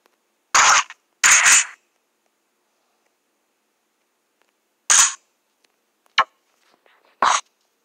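A shotgun fires in a video game as a few sharp, loud blasts, two of them close together early on. Quieter separate shots and clicks follow after a long silent gap.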